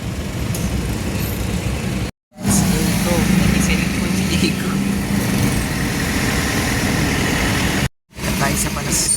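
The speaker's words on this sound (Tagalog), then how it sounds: "Traffic pa guys." Road traffic with idling vehicles, including diesel engines, during a drive to a hot spring. A steady low engine rumble and broadband road noise run throughout, broken by two brief dropouts.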